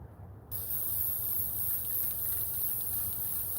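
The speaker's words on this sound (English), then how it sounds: "I'm going to spray half of it yellow first" A can of yellow spray paint hisses steadily onto a tumbler cup. After a short quiet start it becomes one continuous, close spray.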